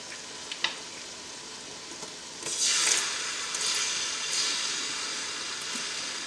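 Tomato puree from a whole tub hits a hot pan for Ghanaian jollof rice with goat meat, bursting into a loud steady sizzle that holds for several seconds after a few faint stirring clinks, with no talking.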